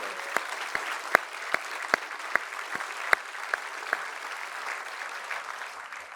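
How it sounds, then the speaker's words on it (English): A conference audience applauding a group about to take the stage, a steady patter of hands with scattered sharp individual claps, moderately loud and fading slightly toward the end. "give them a big, nerve-settling round of applause"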